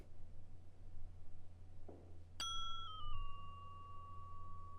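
A bell in a hotel video game gives one sharp bright strike after a soft rustle, its clear ringing tone wobbling slightly and then slowly decaying over a low steady hum.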